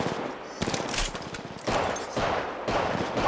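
Video game gunfire in rapid automatic bursts, four or five clusters of crackling shots separated by brief pauses, moderately loud and without any talking over it.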